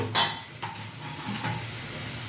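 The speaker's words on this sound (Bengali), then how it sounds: "আলু না দিলে ভালো লাগে না তাই আমি দু চার পিস আলুটা দিচ্ছি আর আলুটা আমি ভেজে নেব" Potato pieces fry in a pan for a jackfruit (echor) curry, giving a steady close sizzle with a couple of sharp metal clinks early on and no talking.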